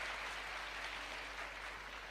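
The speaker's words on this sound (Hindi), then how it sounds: "तो जोरदार ताली बजाइए एक बार" An audience at a women's empowerment event in Rajasthan claps for the Prime Minister, giving steady, dense applause that sounds somewhat distant and soft.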